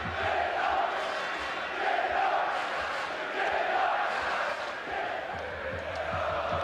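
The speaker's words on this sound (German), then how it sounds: "wieder Anfeuerungsrufe, Jena, Jena" Football fans of FC Carl Zeiss Jena chant "Jena" in a stadium during a match against Fortuna Düsseldorf, a massed crowd repeating the call rhythmically in swelling waves, distant and roaring under a faint commentator's voice.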